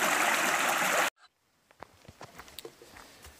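A river forded on foot: a loud, close rush of flowing water that cuts off abruptly, followed by faint scattered trickles, drips and splashy footsteps.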